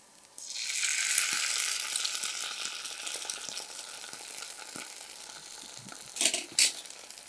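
Tomato sauce goes into a hot pan for beans chaat, setting off a sudden, steady sizzle that stays loud and close, then two short scraping stirs near the end.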